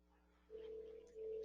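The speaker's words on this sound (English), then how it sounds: "you can hear the familiar Snom ringtone" A Snom IP phone rings with a faint electronic ringtone, a steady tonal burst followed by a short gap and a second burst, heard alone.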